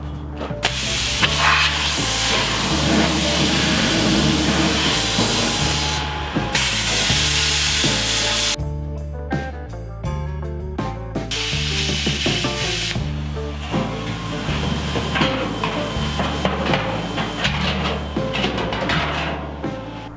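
A power tool cuts into the metal body of a propane smoker in loud, harsh grinding bursts, stopping and starting, with a rhythmic mechanical pulse underneath.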